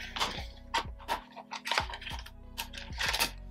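An Instax Mini film pack is opened by hand, making faint crinkles, soft clicks and small plastic taps in an irregular series, close up and quiet.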